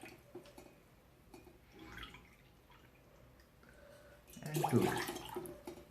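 Water is poured from a cup into a pot to make cumin (jeera) tea, giving a short splashing burst near the end after quiet drips, with a brief spoken word early on.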